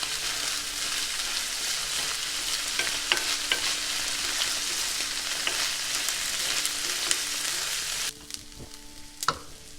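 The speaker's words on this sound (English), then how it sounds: "Now you can add the washed basmati rice and saute well until the mixture is coated well in the rice" Washed basmati rice sizzles and is stirred in a pan for jeera rice, a continuous close frying hiss broken by sharp scraping and clinking of the spoon, then quieter stirring taps after the sizzle drops away.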